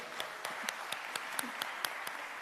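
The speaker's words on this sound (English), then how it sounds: "Let's give him a round of applause" Faint, evenly spaced claps ring out at a UNDP energy session, a slow, steady beat of a few hands in a quiet hall with a soft background hiss.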